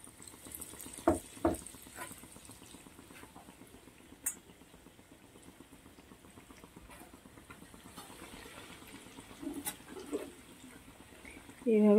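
Potato and bread rolls frying in hot oil in a pan, a steady low bubbling sizzle running throughout with a few sharp clinks of utensils near the start and a louder clatter at the end.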